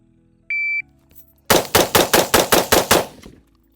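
Rapid volley of about nine loud, close gunshots from a semi-auto shotgun or rifle, fired in quick, even succession on a shooting range after a short electronic shot-timer beep.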